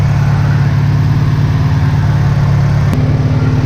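A Honda EG hatchback engine, an H2B swap, idles steadily alongside the whir of its electric radiator fan, close and constant, with a faint change in tone near the end.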